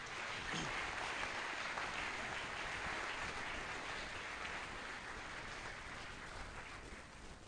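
Church congregation applauding the word of God, a steady, fairly faint wash of clapping heard from a distance that fades slightly toward the end.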